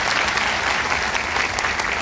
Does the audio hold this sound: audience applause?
yes